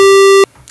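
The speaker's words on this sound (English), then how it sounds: "but we also have a sawtooth, or a square wave," A loud, buzzy synthesizer square-wave tone holds steady for under half a second, then cuts off abruptly.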